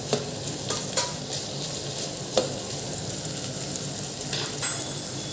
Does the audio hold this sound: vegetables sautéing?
yes